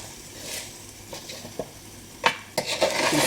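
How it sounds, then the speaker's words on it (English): A spoon nudges oven-baked spicy potato wedges around a metal oven tray, making a few soft scrapes and sharper clinks and taps that grow busier toward the end, with no talking. "I'm just taking the back of a spoon and moving them around slightly."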